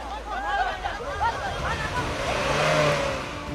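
A car driven by a drunk sand-mining operator revs and accelerates hard as it tears out of a field back onto the highway, its engine roaring over a murmuring crowd with voices around.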